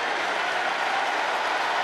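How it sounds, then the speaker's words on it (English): Stadium crowd at a Cleveland Browns vs Philadelphia Eagles preseason game roaring for a quarterback tush push play, a steady loud wash of cheering and applause throughout with no pauses. "Crowd loves it."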